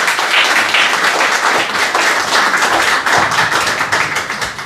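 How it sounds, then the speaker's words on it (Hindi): Dense, steady audience applause fills a mushaira poetry gathering, many hands clapping loudly and continuously without any voices. "भरपूर तालियां होनी चाहिए।"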